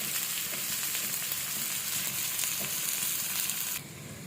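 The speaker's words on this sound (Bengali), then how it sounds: "সুন্দর করে ভেজে নিতে হবে।" Chopped garlic and lentils frying in a pan while a fish dish is cooked, a steady close crackling sizzle that holds throughout and drops a little quieter near the end.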